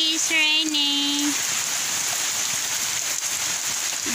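Rain falling during a typhoon outdoors, a steady broadband hiss of drops that holds evenly throughout, with a brief voice sounding near the start.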